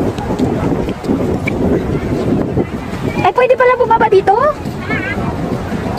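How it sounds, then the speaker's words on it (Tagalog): Wind buffets the microphone in a steady rush outdoors by Victoria Harbour, Hong Kong, while people talk over it. "Medyo mahangin pero fresh air."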